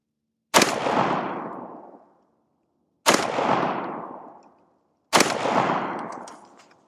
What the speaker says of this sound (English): I want to do 3 rounds unsuppressed, and then 3 rounds suppressed